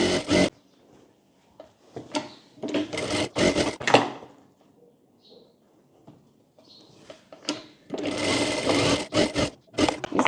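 A sewing machine stitches the lining of a net baby frock in several close, loud bursts of rapid whirring, separated by quiet pauses and light handling of the fabric.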